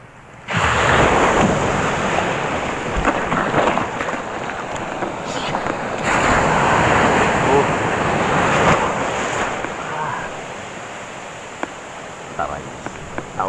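Big ocean waves surge and crash onto the shore in a loud, continuous roar, with wind buffeting the microphone throughout.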